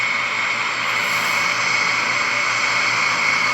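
An airplane engine at full takeoff power makes a steady, loud, close roar of broadband hiss with no breaks and no voices.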